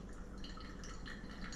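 Coffee drips steadily through a V60 pour-over brewer, a faint continuous trickle of small droplets against a soft background hiss, with no voices.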